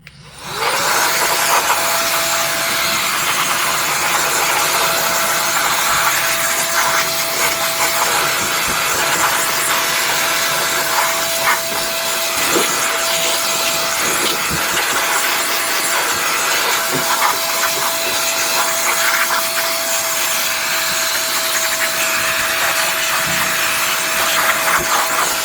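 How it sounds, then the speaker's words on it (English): Compressed air duster blasting dust out of a gaming PC, a continuous loud hissing rush for nearly the whole stretch with a faint steady whine and occasional clicks, no speech. "I think we're probably safe to go ahead and just blast this out with some air"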